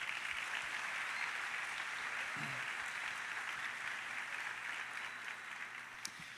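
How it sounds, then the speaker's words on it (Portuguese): A church congregation applauds to welcome pastor Lucas Tutuí: a continuous, soft wash of many hands clapping, heard from a distance and tapering slightly at the end. "Uma salva de palmas para o Lucas"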